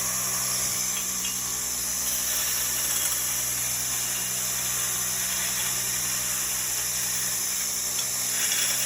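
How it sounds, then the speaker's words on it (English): A Gen 2 universal 2x72 belt grinder runs steadily while grinding, a constant loud mechanical whir with high abrasive hiss and a low motor hum that hold even throughout, with no talk. "The machine is working beautifully and it is doing a pretty good grind"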